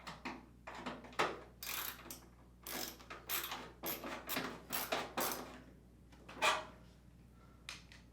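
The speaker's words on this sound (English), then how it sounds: "Next, reinstall the screw on the bottom of the front panel." A screw is driven back into the bottom of an LG Kenmore washer's front panel, heard as irregular close ratcheting clicks and small mechanical knocks with short gaps, quieter toward the end.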